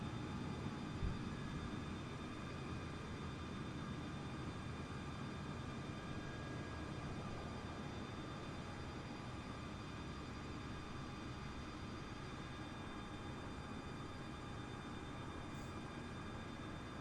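Large jet airliner taking off in Microsoft Flight Simulator, a steady distant engine roar with high whining tones holding evenly throughout.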